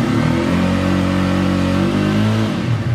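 A Bajaj Pulsar N250 ABS motorcycle engine revs up close and loud, a steady harmonic drone rising then falling back briefly near the end, with no talking.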